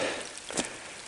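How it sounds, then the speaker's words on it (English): Steady rain hissing on a surface, a continuous wash of noise with a brief louder patter in the middle. "It's actually raining."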